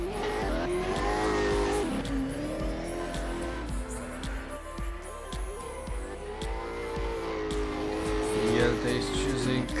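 A BMW race car roars around a drift track during qualifying, its engine revving up and down in swells with tire squeal, close and loud, while a commentator talks over it.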